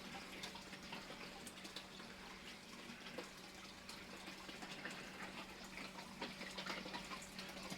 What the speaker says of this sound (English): the back of the shower's still running, plenty of oxygen going in